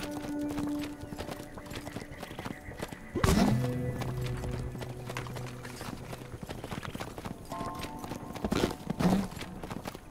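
Hooves trot as a pig is ridden in the video game Tearaway Unfolded, a rapid clopping rhythm with a sharp knock and short squealing calls over steady game sounds.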